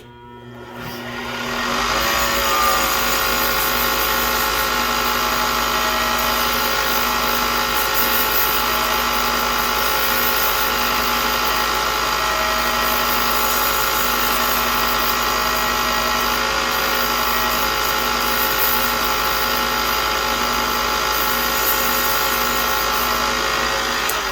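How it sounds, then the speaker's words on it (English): A steady, loud mechanical whir runs throughout with a constant hum and high hiss as abrasive sandpaper rubs against a wooden Christmas ornament spinning on a lathe. "Really need a lot of sanding from here on out."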